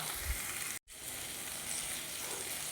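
Ginger and green chillies fry in a pan with onions for chilli chicken, giving a continuous close sizzle broken by one brief dropout, with no talking.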